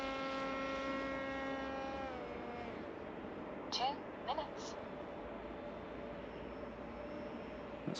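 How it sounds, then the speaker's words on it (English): A cheap RC plane on a low flyby produces a droning propeller whine that falls in pitch as it passes and then fades into faint background noise. "Let's come round for a low flyby."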